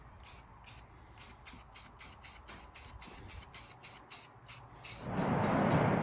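Short, evenly spaced bursts of an aerosol spray can lay self-etching primer onto a heavily rusted car body, a dozen or more quick hissing passes close to the mic, ending in one longer sustained spray.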